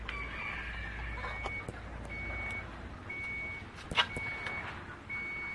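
An electricity meter gives a series of thin, evenly spaced electronic beeps, faint against a murmur of background noise, with a brief knock partway through.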